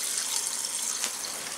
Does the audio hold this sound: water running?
yes